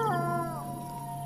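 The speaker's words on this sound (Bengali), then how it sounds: "আর শেয়ালের ডাকে" A single drawn-out jackal howl, high and wavering before settling into a steady falling tone, heard alone at moderate distance while light rain falls.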